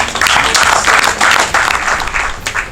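Applause for Isabelle Ibassa Madiba fills a gathering of political supporters in Haut-Katanga, loud, close and steady clapping from a crowd for nearly three seconds, with no talk over it.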